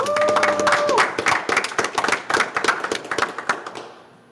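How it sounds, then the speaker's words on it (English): A round of clapping for youth baseball coaches on a podcast interview, a small group of hands clapping close and uneven after a brief tone, thinning out and fading to a few last claps. "let's give them a round of applause"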